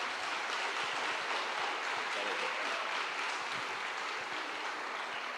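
A church congregation at a sermon applauds softly and continuously, a faint, even wash of many hands clapping from a distance.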